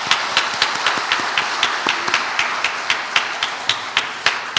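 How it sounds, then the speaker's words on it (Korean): A church congregation claps in praise after a choir and ensemble performance, a thin spread of hand claps ringing out at a steady, rhythmic beat, some people loosely together, through a worship hall. "이 모든 것들 하나님 앞에 영광의 박수 다시 한번 올리겠습니다."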